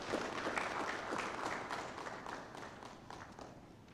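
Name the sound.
audience applause for the Honorable Minister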